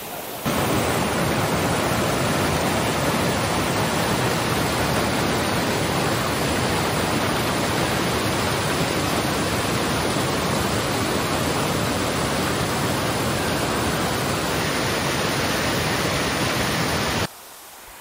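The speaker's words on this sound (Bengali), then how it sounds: "জলের আওয়াজটা শুধু শুনুন। জলের কিন্তু যথেষ্ট ফোর্স আছে।" Bara Ghagra waterfall in Keonjhar roars as a steady, loud, broadband rush of falling water, constant and unbroken, cutting off abruptly at the end.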